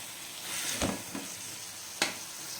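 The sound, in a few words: stirring chilli powder into sirraku leaves in a pan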